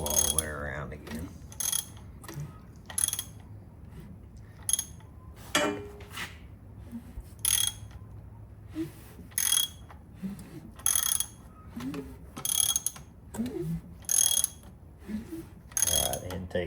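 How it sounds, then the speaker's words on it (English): A ratchet loosens a bolt on a small block Chevy engine during rocker stud replacement, making repeated bursts of clicking pawl ratcheting with short pauses between strokes, close up and clear, with faint low background noise and no talk. "Now I'm just loosening my bolt."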